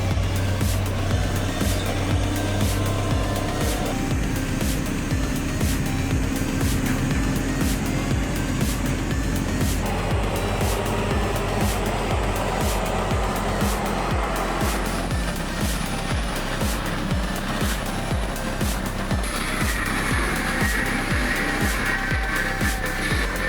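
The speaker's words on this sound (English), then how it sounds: "Logging trucks in Kalimantan are tortured when faced with harsh mud roads." Logging trucks in Kalimantan straining through harsh mud roads with loaders and bulldozers pulling and pushing, a continuous heavy diesel engine drone with pulsing revs and rumble throughout, loud and steady.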